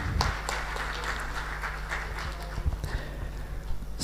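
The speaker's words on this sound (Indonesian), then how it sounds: "Tepuk tangan untuk pertemuan kita." Applause from an audience at a book discussion event on ALDERA rises at the start and fades to scattered clapping, modest and somewhat distant in a room.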